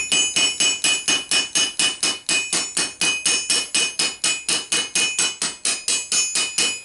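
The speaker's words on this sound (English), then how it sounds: "Peen the rivet, which again would be a brass covered steel rivet, or maybe even plated" A hammer peens a brass-covered steel rivet on a leather strap for medieval armor, a loud, close run of about thirty sharp, evenly spaced metallic strikes with no pauses.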